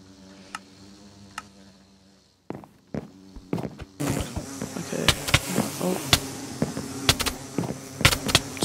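Minecraft bees hovering around a beehive give off a soft insect drone, joined by sharp clicks and stepping taps that get louder and denser halfway through, with no talking.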